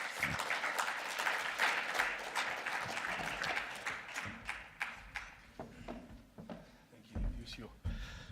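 Applause from an audience for someone speaker at a public session on inequality, dense clapping at first that thins into scattered claps, with voices talking underneath.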